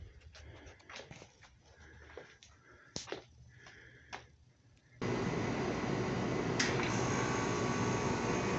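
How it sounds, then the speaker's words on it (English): A window air conditioner fitted with a homemade mister switches on partway through, jumping from quiet room sounds with faint knocks to a loud, steady fan and compressor roar. "When that air conditioner turns on,"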